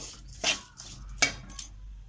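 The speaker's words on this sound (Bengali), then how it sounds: "10 মিনিটের মতো এইভাবে নেড়ে ছেড়ে ছাইটা আমি বানিয়ে নিচ্ছি।" A coconut and sugar filling for lobongo lotika is stirred in a pan over low heat. A few soft, separate scraping strokes sound quietly against a near-silent background, with no one talking.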